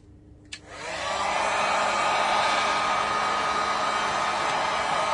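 A heat blower runs on a water-damaged Samsung Galaxy S6 being repaired, kicking on after a short click and then holding a steady, loud, close airy roar to the end with no talking.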